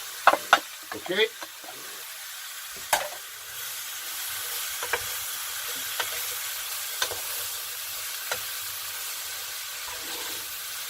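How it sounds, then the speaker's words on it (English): A full punnet of mushrooms cooks in a pan with very little oil, giving a faint steady sizzle with a few sharp clatters and stirring knocks near the start, and a brief spoken word early on. "And I'm going to add the mushrooms."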